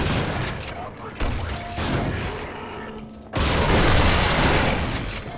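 Grenade explosions in the Quake video game, a rapid string of loud booms and crackling blasts, with a pause and then a heavier blast, set against a busy game background with a voice talking over part of it.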